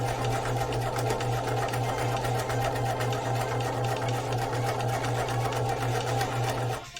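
A sewing machine runs continuously while hemming a hanten, a steady close mechanical whir with a rapid needle chatter that holds an even pace before stopping abruptly at the end.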